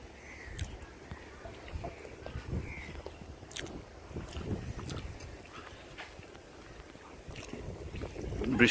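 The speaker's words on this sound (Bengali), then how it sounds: "এবং অনেক বাতাস আছে" Strong wind blowing outdoors under a cloudy sky during an outdoor breakfast, buffeting the microphone with low rumbling gusts and irregular knocks that swell toward the end.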